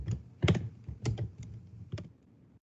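Computer keyboard keys clicked while code is being typed, a short run of uneven, distinct taps, close and fairly quiet, with no talking.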